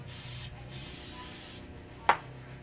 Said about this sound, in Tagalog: spray natin ang WD-40.